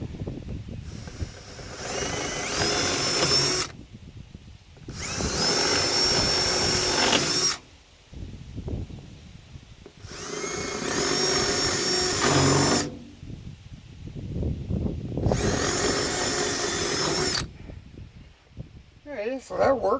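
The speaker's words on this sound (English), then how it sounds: "I might as well drill out these other 4 holes." A power drill bores out holes in wood during a broken axle repair on a New Holland manure spreader, in four loud bursts of steady whirring separated by short pauses with quieter handling noise.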